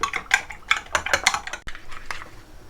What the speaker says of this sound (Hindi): दो अंडे हमने तोड़ के रख लिए थे और इन्हें अच्छी तरह से मिक्स कर लेते हैं।